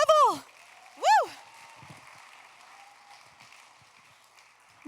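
Audience at a fundraising gala applauds donors at the $500 giving level, with two sharp rising-and-falling whoops or whistles up front, then a faint, steady patter of clapping in the room.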